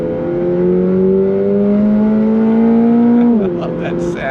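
Toyota GR86 flat-four engine pulling hard on throttle, a steady rising drone close and loud from start to finish, dipping briefly near the end as the revs shift.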